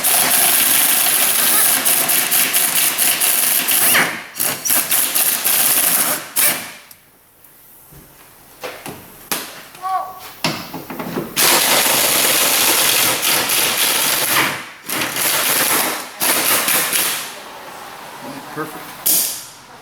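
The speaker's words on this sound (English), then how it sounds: "I'm gonna take and just get the tank bolts loose" Power tool bursts loosen the fuel tank bolts on a Chevrolet Silverado, several loud whirring runs separated by pauses and quieter stretches, with a voice talking in between.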